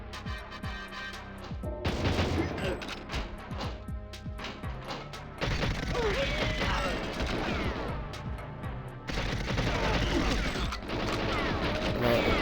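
Gunfire from the video game GoldenEye 007 plays with cheats enabled: dense bursts of sharp cracks and crashing impacts in quick irregular volleys, loud and layered over game sounds.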